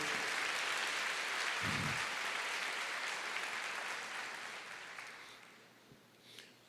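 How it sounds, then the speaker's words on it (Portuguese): Church congregation applauding during a sermon: sustained broadband clapping from a crowd in a resonant hall, steady at first then gradually fading out over several seconds, with a faint voice near the end. "Aplauda ao Senhor."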